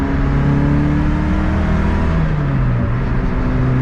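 A Lotus Elise, freshly serviced with new oil and spark plugs, drives along with its engine droning loud and close, a steady tone that dips slightly in pitch as it shifts load.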